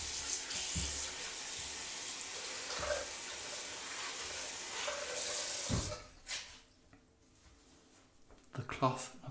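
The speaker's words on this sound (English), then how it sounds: "Cold water into the brush." Cold water runs from a tap during a wet shave, a steady splashing hiss that cuts off partway through, leaving faint handling noises. Someone talks over it.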